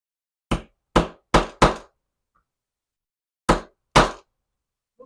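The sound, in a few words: hammering a bracelet piece into place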